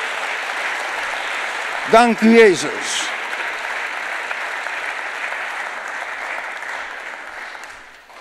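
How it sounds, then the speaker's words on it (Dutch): Church congregation at a Dutch-language service gives a short burst of applause, with a sung or spoken voice nearby and steady room noise throughout. "Geef een applaus aan de Heer."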